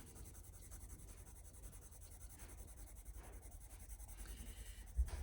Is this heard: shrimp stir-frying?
no